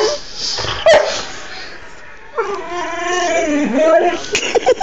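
Several dogs whine and yip in high, wavering cries, close by, with a pause between the first and second bursts of whimpering.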